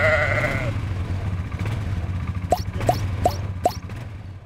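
Pregnant ewes on a farm bleat several times in short, regular calls over a low engine-like rumble, with one longer wavering bleat at the start.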